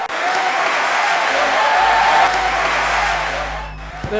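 A large crowd roars and applauds at a Tamil political rally, a loud, continuous wash of cheering and clapping with a low rumble building underneath.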